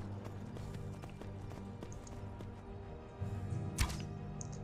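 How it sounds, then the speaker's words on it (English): Horse hooves in the Skyrim video game, a quick rhythmic clip-clop of a running brown horse continuing throughout at moderate level, with a brief sharp louder hit near the end. "Okay, Nut Meg, my horse."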